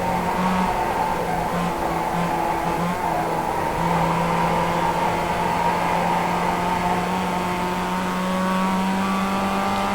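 Race cars run a lap in a 55/65 Plus league race, a steady engine drone with sustained pitched tones holding at a constant level throughout.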